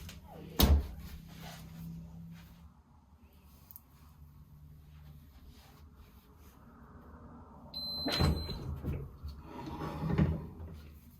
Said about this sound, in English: And then we can go ahead and lock down our heat press.